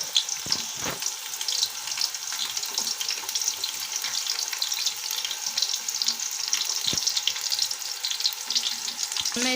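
Chopped onion frying in hot oil, a steady, moderately quiet sizzle with brief crackles and occasional soft knocks throughout.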